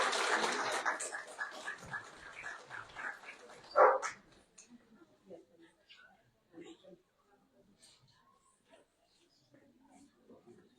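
A service dog barks and yips amid a lively indoor graduation crowd, with a sharp loud bark standing out before the room noise fades to scattered quieter sounds.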